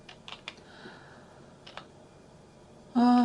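Quiet, scattered keystrokes on a computer keyboard while a student's name is typed, followed by a sudden loud electronic tone at the end.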